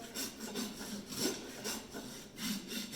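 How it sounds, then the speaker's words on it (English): A farrier's rasp files across a horse's hoof near the shoe, held flat against the hoof wall, giving steady repeated rough scraping strokes about every half second, close and fairly loud. "you'll see that the rasp, I turn it horizontal to the hoof"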